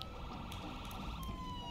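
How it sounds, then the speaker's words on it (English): A police siren switched on in the video game State of Decay 2, wailing continuously and fairly faintly under game noise and a rumbling engine for under two seconds. "Oh, we forgot lights and sirens."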